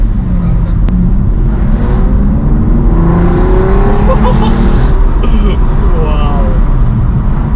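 An Aston Martin DB9's V12 engine drones loudly from inside the car while driving, its pitch rising and falling as it revs, with a voice talking over it.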